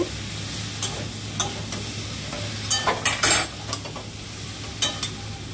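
Cauliflower tossed with spices in a frying pan: a low sizzle under repeated close scraping and clinking stirs, busiest in the middle, with no talk.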